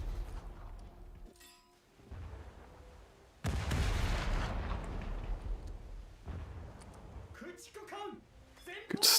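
A torpedo strikes a warship in a naval video game, setting off one deep, booming explosion that rumbles and fades over several seconds. A person talks over the fairly quiet scene before and after the blast.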